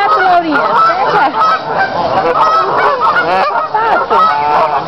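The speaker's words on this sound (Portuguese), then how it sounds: "Pega, Laurinha, pega o pato, Laurinha." Loud, continuous honking from ducks close at hand, harsh and overlapping, with excited voices mixed in.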